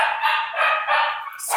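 A dog barks loudly and close by in a few drawn-out, harsh bursts that run together, with a brief higher yelp at the end.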